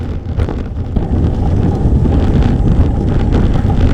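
Steady, loud wind roaring across the microphone on a gravel bike ride over sand, a constant broadband rush with low rumble and no voices.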